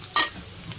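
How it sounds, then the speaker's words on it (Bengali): Potatoes with salt and turmeric frying in a pan, heard as one short, loud sizzling scrape of stirring that fades quickly, with a faint second touch near the end. "লবণ আর হলুদ, আলুগুলো ভাজি করা হয়ে গেল।"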